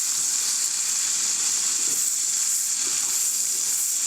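Onions sauté with sugar in a greasy pan inside a hot tent, giving a steady, bright sizzling hiss that runs unbroken throughout, with faint stirring scrapes underneath.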